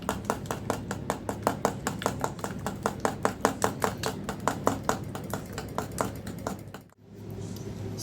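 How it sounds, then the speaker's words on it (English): Banana loaf batter with eggs being mixed by hand, heard as quick, steady utensil taps against a bowl that carry on for several seconds and then stop abruptly. "And you mix it all together."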